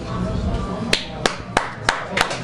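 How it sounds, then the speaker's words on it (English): Several sharp hand claps land at a steady, slightly uneven pace in a restaurant setting, each crisp and distinct above a low background murmur. "He doesn't even know why he's clapping"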